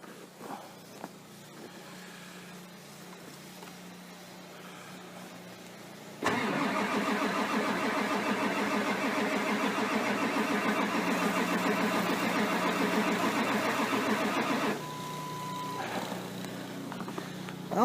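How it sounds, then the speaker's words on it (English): A 1999 Ford Super Duty diesel truck is cold-cranked: a few seconds of quiet, then about eight and a half seconds of loud, steady starter cranking that cuts off abruptly without the engine catching. There is no talking. "We'll give her a start here and see what she does."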